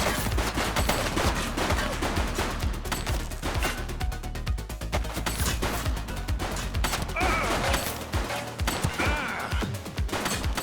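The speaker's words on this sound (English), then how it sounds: "He's shooting!" Sustained gunfire from a suspect in the police game The Precinct, dense bursts of shots and automatic fire with crashing impacts running loud and continuous throughout, with a voice briefly heard.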